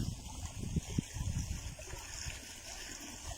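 Water runs through an irrigation canal feeding a rice field in the province, a low, steady gurgling flow with outdoor rumble, heard alone.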